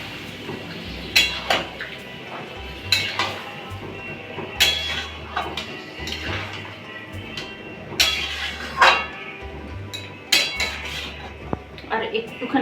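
While a mixed winter vegetable dish cooks, a metal pot lid clinks and clatters against the pan in scattered sharp knocks, close and fairly quiet, with some kitchen handling sounds between.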